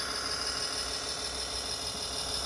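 A steady farm tractor engine drones and idles without pause, a constant mechanical rumble with a hum over it and no voices.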